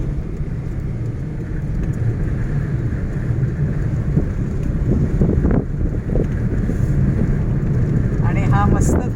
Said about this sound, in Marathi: आणि हा मस्त थंडगार वारा.